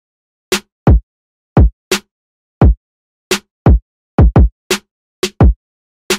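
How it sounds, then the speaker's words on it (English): Sharp, dry snare and clap hits land in a steady groove, some doubled in quick pairs, each burst short and punchy with silence between. "Then for the snare, we're using two different snares"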